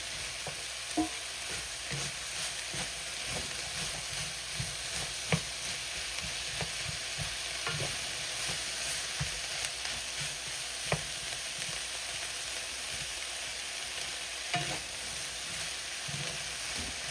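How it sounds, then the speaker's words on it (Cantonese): Onions stir-fried in a pan for Korean black bean noodles make a soft, steady sizzle, broken by occasional clicks and scrapes from a spatula, close up and without speech. "炒洋葱"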